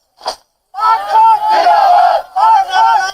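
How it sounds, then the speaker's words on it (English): Crowd of mourners at a soldier's funeral in Faisalabad, Pakistan, chants loudly in unison, close and forceful, with a short shout, a brief pause, then two sustained rounds of the chant. "The crowd of mourners chant, "Long live the Pakistani army.""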